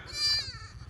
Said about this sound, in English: Hello, baby goat.